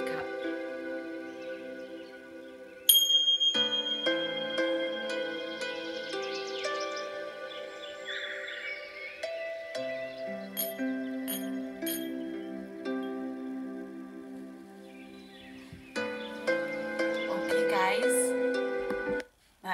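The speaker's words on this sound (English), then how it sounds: "when you hear my chimes, you can slowly allow your eyes" Meditation chimes ring out in a series of bright, shimmering metallic tones that strike and decay, layered and resonant, with several struck clusters across a calm, quiet background.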